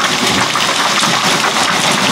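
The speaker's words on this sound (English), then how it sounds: "it's actually hailing pretty big chunks" Large hailstones pound down during a strong thunderstorm, a loud, dense, unbroken clatter and hiss that holds steady throughout, with no voices.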